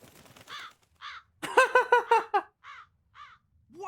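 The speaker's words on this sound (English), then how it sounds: "That crow just flew off with the coin." A crow caws repeatedly in Tales of Berseria: a few spaced single caws, then a loud rapid burst of five or six harsh calls, followed by more scattered caws, all close and clear.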